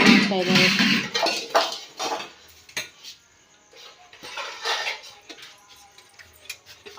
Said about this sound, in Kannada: ಆಮೇಲೆ ನೋಡಿ ಬಾ ಪಾತ್ರೆ ತೊಳೆಯೋದು ಅದು ಎಲ್ಲ